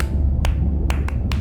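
Four sharp clicks in a quick uneven 1+1+3 pattern, one, a pause, then three close together, made by a person imitating a sperm whale coda over low background noise.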